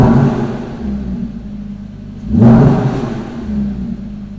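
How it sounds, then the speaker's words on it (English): An Audi R8 5.2 V10 Performance Cabriolet engine idles with a steady low rumble, then gives a single sharp rev that swells loudly and falls back to the idle, heard alone without talk. "I shall stop revving it and annoying everyone."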